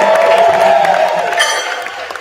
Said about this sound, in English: we please give Julie one more round of applause